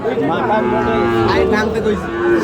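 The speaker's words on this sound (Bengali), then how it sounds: "এখানে যে গরুগুলো কিনছেন মোমিন ভাই" Local deshi-breed cattle moo in long, low, drawn-out calls close by at a cattle market in Noakhali, with a faint murmur of voices behind them.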